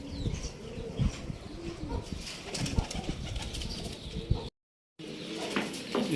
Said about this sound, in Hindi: ये अभी एक और आया जी ऊपर से। शाह परवाज़ कबूतर हमारा है जी